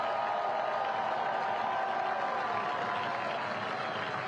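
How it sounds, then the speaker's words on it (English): A stadium crowd at a U.S. Open Cup soccer match, Nashville versus FC Dallas, applauds a substituted goal scorer leaving the pitch: a continuous, distant wash of applause and crowd roar, steady and even throughout. "He receives a hero's applause off the pitch."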